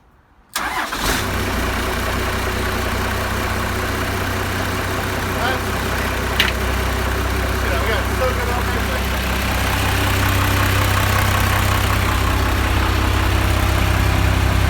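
A 12 valve Cummins diesel, a cheap purchase, fires up from a remote starter with a sudden loud catch, then settles into a steady, close, rumbling idle that deepens slightly later on.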